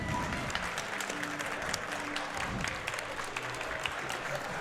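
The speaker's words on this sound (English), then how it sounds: "can we get one more round of applause for AeonFrodo and TasmaniaJones as well for that awesome run?" Sustained applause and cheering from a speedrun marathon audience, even and continuous, with a few voices mixed in.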